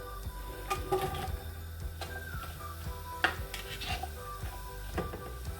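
Three chopped onions frying in a pan for pastrami biryani, a faint steady sizzle with occasional scraping and clinking of a spoon against the pan, close and quiet.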